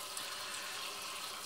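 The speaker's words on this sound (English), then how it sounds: "Rinse in cold water." Cold tap water runs steadily at close range, rinsing a freshly caught, butterflied red snapper in a kitchen: an even, hissing splash with no talk.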